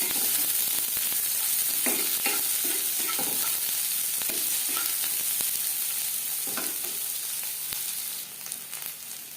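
Two chopped onions fry in a pan for a home-style dal fry, hissing and sizzling steadily. A spatula stirs and scrapes through them in short bursts, with no one speaking.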